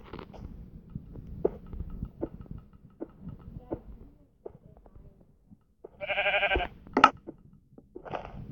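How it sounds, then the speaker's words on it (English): Sheep bleating in the Minecraft video game, a couple of short, bright bleats late on amid soft clicks and footsteps of gameplay. "Sheep."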